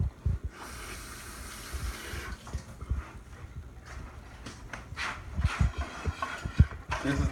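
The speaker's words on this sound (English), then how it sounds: "Let me rinse my fingers off real quick." Running tap water rinses fingers in a home kitchen, a close, uneven splashing and gurgling stream with shifting bursts as the hands move under the flow.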